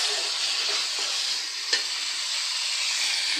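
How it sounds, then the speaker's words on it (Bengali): Spices fry in a pan for an egg bhuna, a close, steady hiss and sizzle holding at an even level, with one brief utensil tap partway through. "আমি দুপুরে রান্না করার জন্য ডিম ভুনা করব, তাই মশলা ভেজে নিচ্ছি।"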